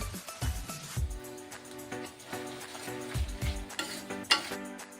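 Chicken curry with black pepper paste is stirred in a pan, producing repeated soft scraping and light clinks in an uneven rhythm over a faint, steady background sizzle, close and without speech.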